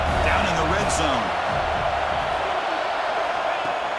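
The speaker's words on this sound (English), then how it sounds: "the crowd coming to life here, trying to help this defense down in the red zone" A packed stadium crowd at a Penn State college football game roars in a steady, dense wash of cheering, with a commentator talking over it throughout.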